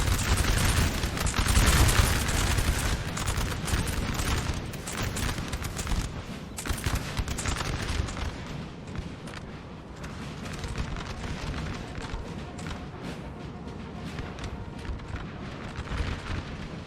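Musket volleys in Napoleon Total War, a dense, continuous crackle of massed gunfire with rolling bursts and booms, loudest at the start and easing slightly while it keeps going throughout.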